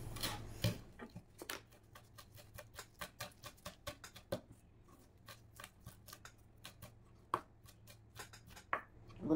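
A knife chops coriander, mint, curry leaves, capsicum and green chili on a board for a Yemeni white mandi. Close, crisp taps come in quick, slightly uneven bursts.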